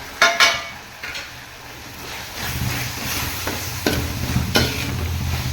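Masala sizzles and hisses steadily in a hot pan for egg masala, with a few sharp scraping and stirring knocks near the start and later, no voices.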